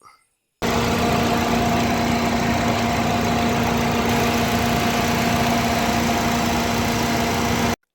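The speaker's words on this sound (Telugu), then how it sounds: "మీకు ఇంజన్ కూడా ఆన్ చేసి సౌండ్ వినిపిస్తాను" A Maruti Suzuki Swift engine idles steadily with a smooth, constant hum and faint vibration, starting abruptly and running evenly without change.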